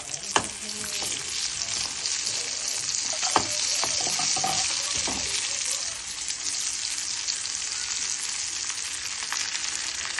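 Mustard seeds, cumin, urad dal and asafoetida sizzle in hot oil in a pan, a steady crackling fry with sharp pops and occasional stirring clatter.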